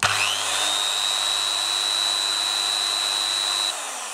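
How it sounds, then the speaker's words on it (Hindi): An electric drill switched on whirs up into a steady high-pitched whine that holds evenly for several seconds, loud and close, with no talking, before it cuts off and leaves a faint background hum. "अब यहाँ पे मैं ड्रिल मशीन को ऑन करूँगा"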